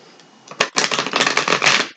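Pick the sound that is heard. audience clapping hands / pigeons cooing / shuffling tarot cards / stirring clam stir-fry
shuffling tarot cards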